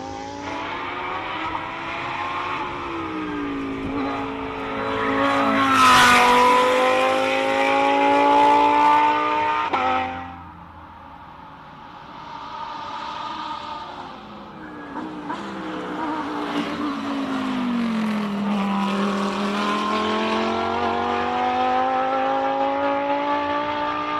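A pink Lamborghini races up a hill climb course, its engine note climbing and dropping through gear changes, loud and close at first, then easing off before building again as the car pulls away.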